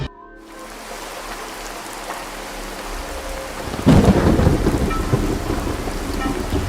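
Rain and thunder set a stormy night scene: steady heavy rainfall hisses throughout, then a loud crack of thunder breaks in partway and rolls on under the continuing downpour, with no voices.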